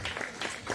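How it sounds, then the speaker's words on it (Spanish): A short burst of clapping from a small group, steady and fairly loud, with no voices standing out. "Fuerte el aplauso para Zunilda."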